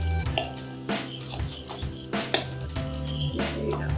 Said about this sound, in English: you're just going to whisk that together with the freshly boiled mixture till it starts forming a dough ball